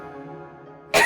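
A child lets out a single sharp cough at the very end, following a faint sustained tonal background.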